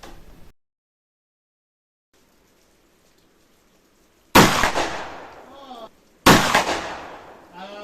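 An XP12X pump-action shotgun fires two loud, sharp blasts about two seconds apart outdoors, each with a booming crack and echoing tail, after a stretch of near silence.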